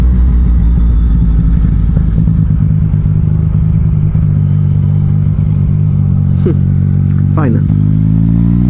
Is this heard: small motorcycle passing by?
yes